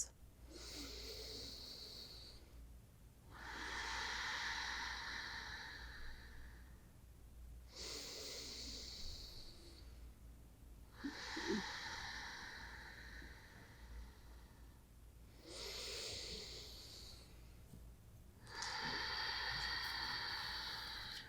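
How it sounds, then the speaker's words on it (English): Slow, steady breathing in and out through the nose during a prenatal yoga practice, with about six long airy breaths alternating in an even rhythm, close and soft with no talking. "Inhaling and exhaling through the nose. Steady, smooth,"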